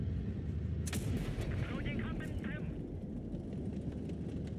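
Tank cannon shots strike the player's tank in World of Tanks Blitz, with a couple of sharp impacts over a constant low engine rumble. The hits are moderately loud and are heard under a voice.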